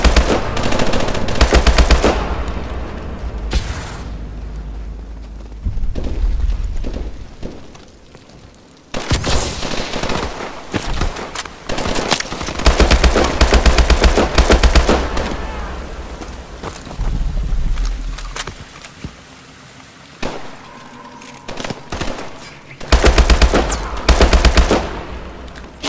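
Loud, sustained automatic gunfire in Call of Duty: Advanced Warfare, long rattling bursts broken by brief pauses, with a few heavier blasts and no talking.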